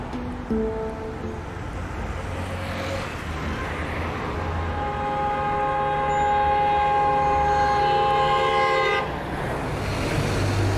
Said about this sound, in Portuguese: Eu tô aqui no meio da confusão do trânsito do Rio de Janeiro